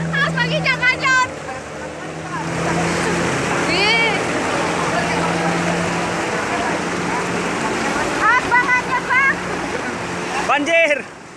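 Floodwater rushing through Kampung Lalang village, a steady loud wash of flowing water throughout, with people talking over it at the start and again near the end.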